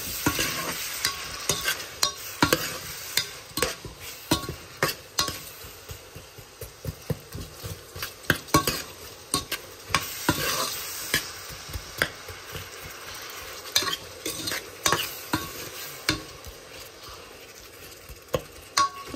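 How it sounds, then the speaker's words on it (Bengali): Onions frying in a pan for a spinach and prawn bhuna, with a utensil stirring and scraping in frequent irregular strokes over a steady close sizzle, no voices. "আমার আনিয়ন খসি গেছে"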